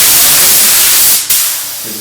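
Loud steady hiss of compressed air blasting through a paint spray gun fed by a small compressor, continuous and close, dipping briefly as the flow is adjusted then resuming.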